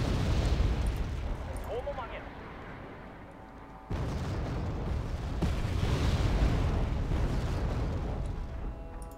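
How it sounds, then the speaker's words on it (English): Artillery counter-battery salvo in the Wargame Red Dragon video game: dense rumbling booms and blasts roll continuously, with a sharp burst partway through, under and around someone talking. "here comes the response from the counter battery"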